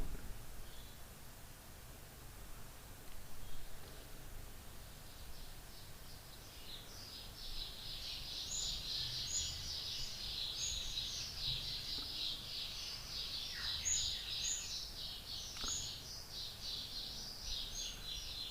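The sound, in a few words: spring birds chirping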